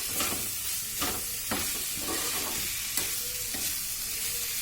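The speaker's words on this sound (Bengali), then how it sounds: "এরপরে দেবো আমি একটু কারি পাতা। কারি পাতাটা দিয়েও একটু নাড়বো।" Curry leaves and chicken fry in a pan over raised heat, a steady soft sizzle broken by several sharp scrapes and knocks of a spoon stirring, with no talking.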